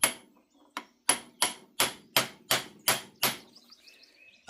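A Farmall 450 tractor's belt pulley seal is driven back into place with a run of about nine sharp, evenly spaced metallic hammer taps close by, a short pause, then one final strike.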